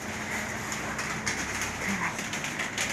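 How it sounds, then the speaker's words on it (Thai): Steady rain falling outdoors, an even dense hiss with no breaks, with faint bird calls over it. "ฝนตกแล้ว ฝนตกแล้ว"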